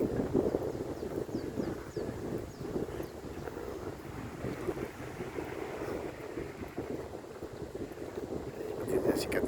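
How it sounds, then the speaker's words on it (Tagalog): Strong wind buffets the microphone in an open, tree-filled cemetery in Taguig, a steady roaring rush that holds throughout the clip with a faint rustle behind it. "malakas din ang hangin."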